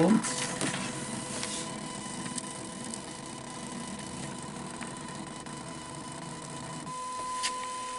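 A small printer whirs steadily and mechanically, close by and continuous, as it prints hearing aid measurement results in a hearing aid test lab, with a faint tone running underneath.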